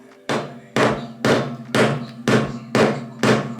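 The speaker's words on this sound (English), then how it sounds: "The hammer" Steady hammer blows during a budget DIY hallway makeover, seven loud, evenly spaced strikes about half a second apart, each a sharp thudding knock with a short ringing decay, close by with no talking.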